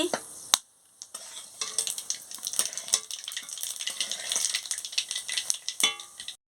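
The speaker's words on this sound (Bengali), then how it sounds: "তেলটা গরম হয়ে গেছে, কালো জিরেটা দিয়ে দিচ্ছি।" Nigella seeds (kalo jeere) hit hot oil in a kadai while prawn malaikari is being cooked, giving a close, steady crackling sizzle that briefly drops out near the start and then carries on evenly without any talk.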